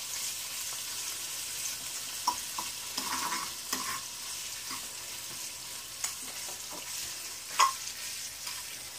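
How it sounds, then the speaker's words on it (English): Bacon strips sizzle steadily in a frying pan over medium-low heat, a continuous crackling hiss broken by occasional louder pops and the scrape of a utensil, close and without talk. "this is how your bacon should look like while it's sizzling on this pan."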